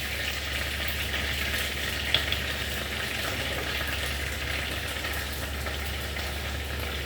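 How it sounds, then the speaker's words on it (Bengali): Pomfret fish frying in a pool of oil in a kadai, giving a steady, even sizzle and crackle that holds at the same level throughout, with no voices. "এই যে মাছ ভাজা হয়ে গেছে।"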